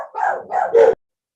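Three dogs barking indoors, two quick barks followed by a sharper yelp, close and loud, ending abruptly in silence.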